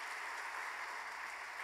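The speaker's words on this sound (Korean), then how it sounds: "귀한 말씀 전해주신 선교사님께 감사의 박수 한번 전하겠습니다." A church congregation claps steadily for a visiting missionary, a dense, even wash of applause from a crowd that holds at one level throughout, with no voices over it.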